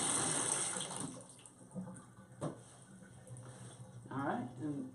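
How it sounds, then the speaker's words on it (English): Tap water running steadily to bleed air from newly installed water heater lines, a continuous hiss and splash with sputtering surges near the end, under someone talking. "You want to let it run till it runs clean and runs free of any air bubbles."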